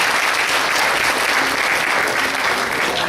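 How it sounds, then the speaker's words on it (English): Crowd at a golf fundraiser for organ donation applauds, a thick, continuous wash of clapping from many hands at even loudness from start to finish. "So give yourselves a round of applause first and foremost."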